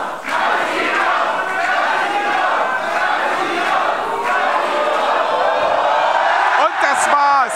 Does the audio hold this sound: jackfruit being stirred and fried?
no